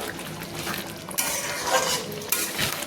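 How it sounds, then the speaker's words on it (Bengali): A spoon stirs yogurt chicken curry in a pan just uncovered, scraping and clinking against the metal over a soft simmering sizzle in a few close, uneven strokes. "আমি একটু নেড়ে নিচ্ছি।"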